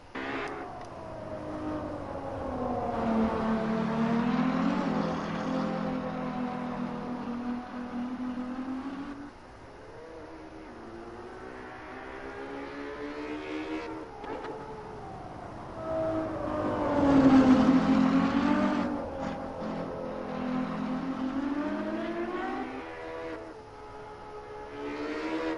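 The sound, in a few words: Ferrari car engine from outside, Assetto Corsa video game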